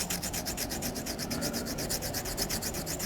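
A 320 grit stone rubs back and forth over an AR15 part in fast, even, rasping strokes, close and continuous with a regular rhythm.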